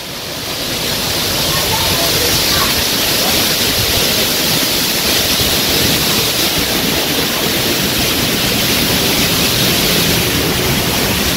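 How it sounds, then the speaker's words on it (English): A waterfall at a hotel lagoon pours as a steady, loud, broadband rush of falling water that builds in the first second and then holds constant and close, with no other sounds standing out. "All right, everybody, look, it's the waterfall."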